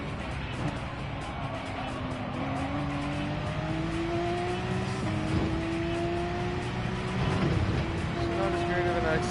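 Race car engine in Gran Turismo 7 during a daily online race lap, a steady high whine rising and falling in pitch through gear changes, continuous and fairly loud with a voice talking over it.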